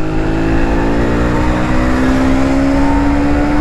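A 2020 Aprilia Tuono 125 cc motorcycle's engine revs up steadily in a rising, sustained drone, close and loud throughout with no talking.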